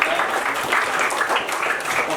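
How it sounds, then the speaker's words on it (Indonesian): Classroom applause for a student named Raja during a lesson on artificial intelligence, a steady wash of clapping from a group of students that holds evenly for a couple of seconds without talk. "tepuk tangan buat Raja"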